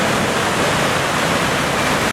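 Heavy rain pours down in a steady, dense roar during an evening downpour in Uşak that left water pooling on the streets, loud and unbroken throughout.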